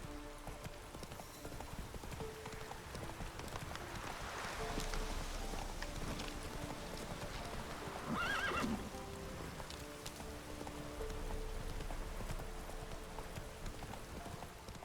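Roach, a horse in The Witcher 3: Wild Hunt, gallops with steady clip-clop hoofbeats under a game soundtrack, and one loud neigh rises near the middle before the hooves carry on.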